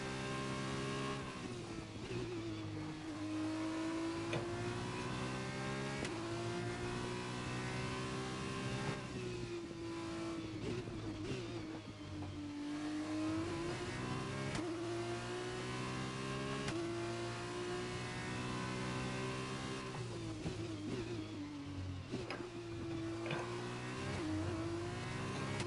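Race car engine in the F1 2021 video game during an F2 sprint at Imola, loud, high-revving whine that repeatedly climbs through the gears and dips on braking and downshifts, continuous and alone.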